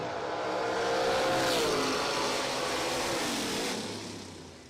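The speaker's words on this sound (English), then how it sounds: "Chevelle right there. Slam the ground, 545. Watch this car launch out. It's like a rocket ship." A Chevelle drag race car launches hard off the line at the drag strip, a loud sustained engine roar with rising pitch that peaks and holds before fading slightly, with no talk over it.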